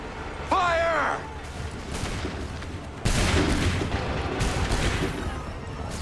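A loud musket volley in Assassin's Creed 3 cracks out all at once and leaves a sustained rumbling, crackling wash of fire. It comes right after a shouted voice, over a busy battlefield din.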